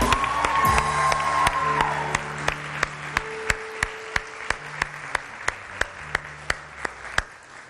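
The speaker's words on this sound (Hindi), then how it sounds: "अब आपने तालियां बजानी है, मैं सिर्फ एक नाम लूंगा लेकिन आपने तालियां बजानी है।" A studio audience on a Women's Day morning TV show claps together in a steady rhythm, with sharp evenly spaced claps ringing out after a brief swell of crowd noise at the start.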